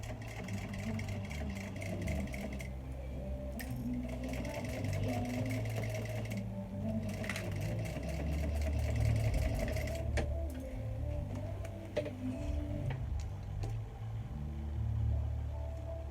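Sewing machine back-stitching and top-stitching a Dayna Pack mini bag, a steady low motor whir running continuously with brief pauses and shifts in speed, close and moderately loud.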